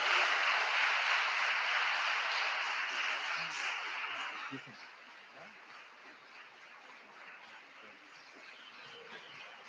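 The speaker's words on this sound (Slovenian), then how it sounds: "En močen aplavz za Lijo." Audience applause at a primary school graduation ceremony, a dense wash of clapping that holds steady for about four seconds and then fades to a quieter murmur of scattered claps.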